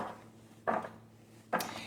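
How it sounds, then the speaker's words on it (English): Two bursts of sweet potato cubes tumbling into a roasting pan, each a quick clattering rattle separated by a short pause. "I'm going to put those sweet potato cubes into a roasting pan."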